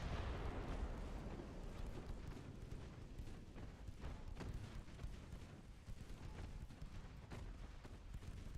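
Naval gunfire in Ultimate Admiral Dreadnoughts, 12.3-inch battleship guns, as a dense, continuous roar of booms and rumbling blasts that runs unbroken at high loudness, with no voices over it.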